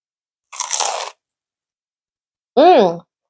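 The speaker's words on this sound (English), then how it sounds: "Let me wash it down with some charcoal sesame seed English muffin." A single loud crunchy bite into a broiled, charred sesame seed English muffin, lasting about half a second, followed after a pause by a short voiced murmur.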